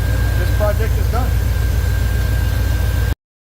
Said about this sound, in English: I'm going to let it idle and run for a little while and see how it feels, how it sounds.